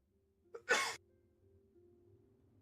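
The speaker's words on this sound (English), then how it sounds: "I'm about to sneeze." A single short sneeze from a man during a livestream, a sharp breathy burst after a brief intake, fairly quiet and alone against near silence.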